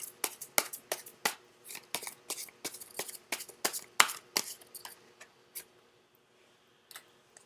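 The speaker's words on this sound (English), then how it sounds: "I'm actually going to pull out one more card" Tarot cards being shuffled and pulled, a quick run of crisp, close snaps and flicks that thin out into a few sparse taps before falling quiet.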